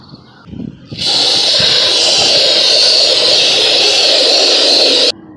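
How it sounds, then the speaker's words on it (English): A can of Great Stuff insulating foam sealant sprays in one continuous, loud, close hiss lasting about four seconds, after a short stretch of quiet handling noise, then cuts off abruptly. "Great Stuff, the insulating foam sealant, is a one-time use type thing."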